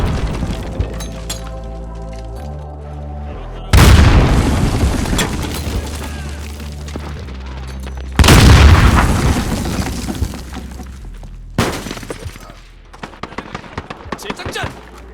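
Stun grenade going off in Call of Duty: Modern Warfare during a run-and-gun match, two sharp loud bangs with a long crackling ringing tail, then gunfire and shouted voices in the mix.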